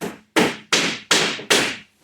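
Rusty nails hammered into wood while building a gothic bow-roof off-grid outhouse: five sharp, loud hammer strikes in a steady rhythm, each ringing briefly before the next blow, with no talking.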